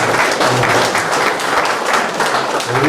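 Audience applause at an award felicitation ceremony for technicians: a dense, continuous wash of many hands clapping, fairly loud and sustained for the whole stretch.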